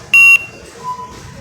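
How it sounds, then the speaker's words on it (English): A barcode scanner gives a single sharp, loud beep while scanning a Walmart clearance item, with faint store background behind it. "So let me scan this one really quick."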